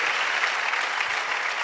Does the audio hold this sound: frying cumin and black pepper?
no